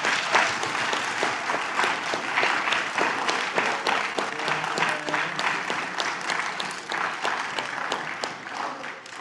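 A round of applause for a sixth-grade student in a school meeting: continuous clapping from many hands, moderately loud and even, with a few crisp claps poking through and a low voice faintly audible beneath.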